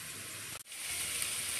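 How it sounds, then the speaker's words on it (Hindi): Ingredients sizzle steadily in a hot pan while a Patiala chicken curry is cooked, a loud, even hiss close by with one brief dip partway through, and no talking. "ये फ्राई होना शुरू हो गया है।"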